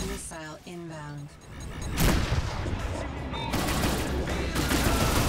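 Space combat in Rebel Galaxy Outlaw: a synthetic warning voice is followed by sustained loud weapons fire and explosions around an incoming missile.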